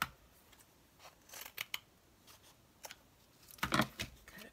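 Scissors snip through fabric or red lace in short, crisp bursts, several quiet isolated cuts followed by a quicker cluster of snips near the end, close and faint with no talk.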